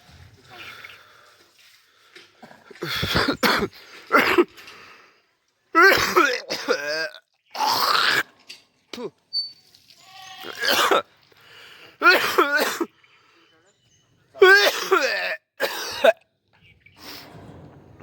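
Repeated bursts of harsh coughing and throat clearing from a man with a cold, several loud fits spread across the span with short quiet gaps between them.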